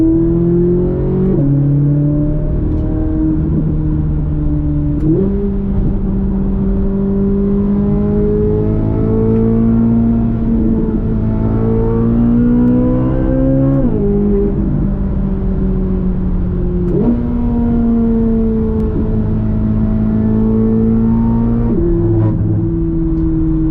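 A Chevrolet C8 Corvette Stingray accelerates hard, its engine note climbing steadily and dropping at several gear shifts, loud and continuous throughout with no one talking.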